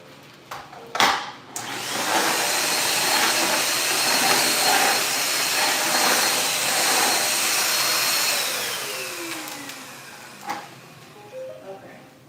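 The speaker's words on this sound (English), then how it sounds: "now I can take the vacuum cleaner and do this part here" A vacuum cleaner whirs steadily for several seconds after a few knocks, then winds down, with some handling clatter at the end.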